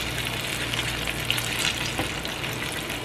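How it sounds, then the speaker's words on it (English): Catfish frying in hot oil, a steady close crackling sizzle that stays fairly even with small pops throughout the short stretch. "I like my fish fried hard, but y'all can see this one ain't frying that loud, so y'all know that one's done."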